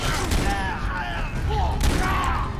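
A single sharp gunshot cracks out in the video game Far Cry 3 amid busy game noise and a low rumble, with faint tonal whistles and chatter in the background.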